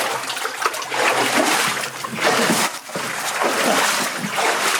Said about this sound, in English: Have I just splashed everything?